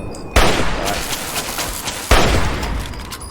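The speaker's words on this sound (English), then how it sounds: "Ooh, somebody saw me. Oh, it's a turret. Load up. It's a laser turret." Mark 4 laser turret firing in Fallout 3, two sudden loud bursts of rapid crackling fire, each followed by a rough decaying rattle, close and dominant.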